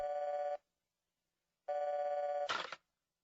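A cartoon telephone rings in two short electronic trills separated by a brief silence, clean and close, with a clattering click as the second ring is cut off, likely the receiver being picked up.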